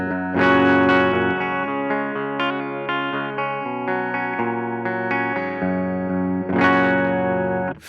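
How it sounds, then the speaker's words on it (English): An electric guitar plays through a KMA Audio Machines Horizont JFET phaser set to stereo ping-pong. Sustained distorted chords sweep and shimmer, with a strummed attack near the start and another near the end. "It's actually a ping pong sound, but I have no idea why they had to ping pong your dry guitar sound"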